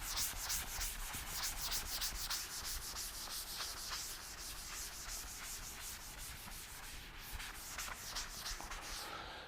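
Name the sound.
rubbing writing off a board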